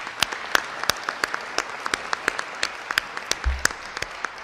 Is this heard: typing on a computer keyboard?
no